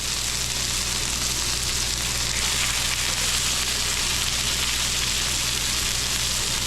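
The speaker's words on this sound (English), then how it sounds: "I call it just cooking it in a frying pan." Blackened snapper sizzles and fries steadily in a frying pan with lemon squeezed in, a dense, even crackle that holds close and loud throughout, with no talking over it.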